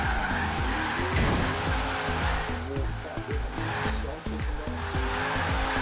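Race car drifting in Forza Horizon 3 with the Hoonigan pack, engine roaring steadily while tires squeal and skid continuously, loud and close, with faint voices underneath.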